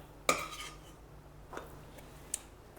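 Roasted masala is scraped out of a metal kadhai onto a plate, heard as a sharp metallic clink followed by a few quieter spoon scrapes and taps, fairly faint in a quiet kitchen.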